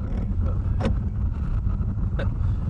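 Car driving along a remote road in the Scottish Highlands near Loch Duart: a continuous low road and engine rumble inside the vehicle, with a couple of brief creaks or clicks and no clear talking.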